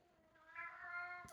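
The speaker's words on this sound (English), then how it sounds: "sorry about the cat" A cat meows once, a drawn-out harmonic cry in a quiet indoor room, rising in strength midway and ending with a brief soft noise.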